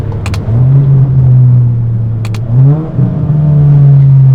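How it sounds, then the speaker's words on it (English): A Volkswagen Mk7 GTI with an aggressive aftermarket exhaust and paddle-shifted DSG pulls hard. Its deep engine drone rises and holds, dips briefly around a shift and then climbs again, loud and close with sharp clicks along the way. "this exhaust is way too aggressive for daily use, because when you're on it, man, it sounds so good."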